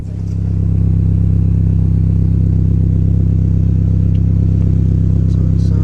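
A Mini R53 engine with a new header and catback exhaust idles at a steady, deep, loud drone, its even low rumble holding unbroken from start to end and no voices over it.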